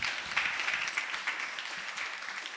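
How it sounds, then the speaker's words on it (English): An audience at a future-themed festival applauds a panel, a soft, steady wash of clapping heard from some distance at low volume. "Let's give our panel a round of applause."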